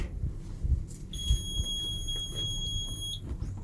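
A Komatsu PC2000 excavator's electrics switch on with a single steady electronic beep lasting about two seconds, clear and fairly loud over a low cab rumble.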